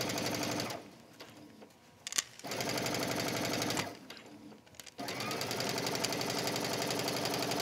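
A sewing machine stitching a shoulder seam on ponte knit: a steady, close mechanical whir in long runs, with two brief pauses and a short backstitch burst between them.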